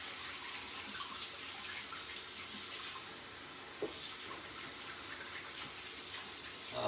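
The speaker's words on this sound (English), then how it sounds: "And I am going to wash my hands real good now." A kitchen tap runs steadily while hands are washed, a constant soft hiss of flowing water with faint splashes, fairly quiet and heard alone without talk.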